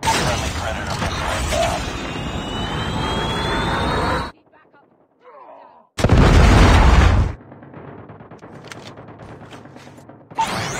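A predator missile blasts in Call of Duty Mobile with loud, close explosions and a rushing roar, then a near-silent gap, another heavy burst, and quieter battle noise with aircraft drone. A game voice speaks in places.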